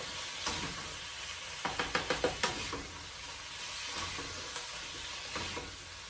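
Ginger pork mixture fries in a pan with a steady sizzle while a utensil stirs and scrapes it, a quick run of sharp clacks in the middle standing out close and loud.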